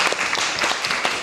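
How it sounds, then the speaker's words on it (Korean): Applause breaks out in a city council committee meeting for retiring public officials, a dense, steady patter of many hands clapping together with no talking over it. "박수 한번 쳐드릴까요?"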